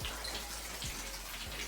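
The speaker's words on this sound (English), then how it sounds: "the draining that we have in our tub is slow" Water drains slowly from a bathtub in a 1975 Florida home, a soft continuous gurgle and trickle with faint irregular bubbling, fairly quiet and with no talk.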